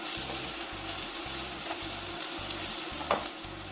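Italian meatballs sizzle and fry in a hot pan, a steady crackling hiss running throughout at close range with no one speaking.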